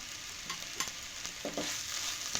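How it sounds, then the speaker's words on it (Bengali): A spoon stirs spiced potato filling seasoned with amchur powder and chaat masala in a pan for crispy veg patties, giving soft, intermittent scraping strokes over a quiet background hiss. "দিয়ে ভালোভাবে আবারও মিক্স করে নিচ্ছি"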